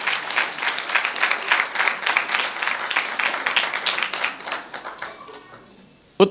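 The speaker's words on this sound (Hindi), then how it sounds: "जोर से ताली बजा के प्रभु का धन्यवाद दें।" A church congregation applauding during a Hindi-language sermon, steady dense clapping from many hands that fades out over the last second before a sharp single sound at the very end.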